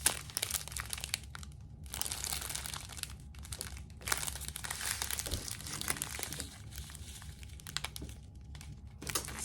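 Plastic bags from a diamond painting kit crinkle and rustle close up, a continuous busy crackling handled by hand for several seconds with short quieter gaps and no talk.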